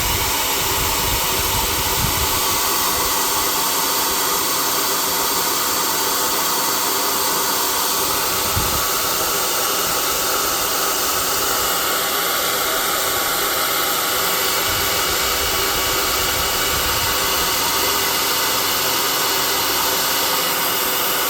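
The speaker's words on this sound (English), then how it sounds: "I'm going to dry those off with my hot air gun" A hot air gun blows steadily for about twenty seconds, drying freshly painted model trees for a tabletop terrain. It gives a continuous loud hairdryer-like whoosh with a faint low rumble and occasional small knocks beneath.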